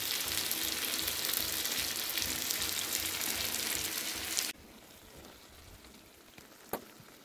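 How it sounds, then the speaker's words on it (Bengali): Chicken kosha frying and being stirred in oil, a steady close sizzle that abruptly drops to a quieter simmer, followed by a single sharp clink of a utensil. "এখন আস্তে হিতে চিকেনটাকে আমার ধীরে ধীরে কষতে হবে, শুধুমাত্র তলা নেড়ে নেড়ে কষতে হবে"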